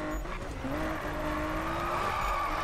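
A Nissan Skyline GT-R drifts in the racing game Need for Speed, its engine droning steadily while tires squeal in a long, sustained screech at close range.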